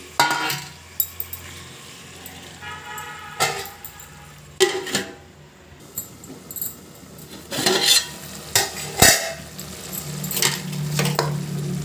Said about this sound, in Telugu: ఇలా టమాటాలు బాగా మగ్గిన తర్వాత రొయ్యల్ని వేసుకోండి